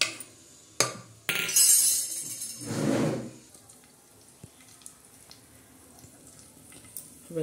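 Tempering spatters in hot oil with a loud burst of sizzle, followed by a second hissing surge that fades to quieter crackles and a few scattered clicks.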